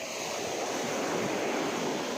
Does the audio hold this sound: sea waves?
yes